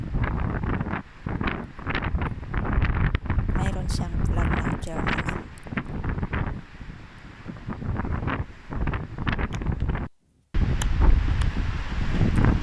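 Strong wind buffets the microphone in loud gusts at the shore of a large lake while someone talks over it, with a brief cutout near the end.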